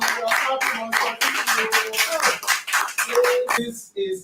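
A church audience claps in quick, uneven bursts, fairly close, with voices and some singing mixed in.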